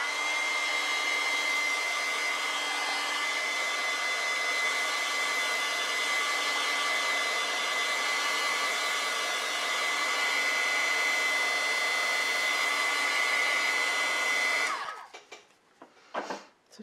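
A hair dryer blows steadily and loudly for about fifteen seconds to dry acrylic paint on a mixed-media lamb painting, then cuts off, leaving a few faint handling noises.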